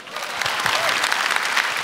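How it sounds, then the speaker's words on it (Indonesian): Studio audience at a stand-up comedy competition show bursting into loud, dense applause with some cheering, sustained and close for under two seconds. "Tepuk tangan buat Bang Patra Gumala."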